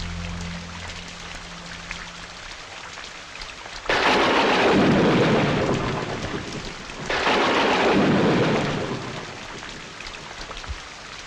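Steady rain pours down while two long, loud rolls of thunder rumble through, each lasting a few seconds before fading back to rainfall.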